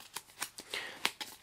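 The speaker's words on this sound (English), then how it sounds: "So, let's shuffle all these cards." A deck of trading cards is shuffled by hand, giving a quiet series of quick riffling swishes and soft slaps in an irregular rhythm, heard alone and close.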